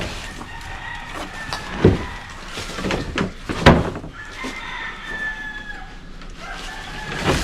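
A rooster crows a few times behind a house, fairly close and loud, with scattered clucks and a knock or two between the calls.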